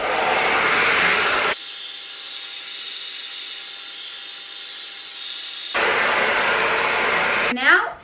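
Hair dryer fitted with a diffuser blows air onto curly hair, a loud continuous hiss that drops to a quieter, brighter setting midway and then returns to full strength before cutting off.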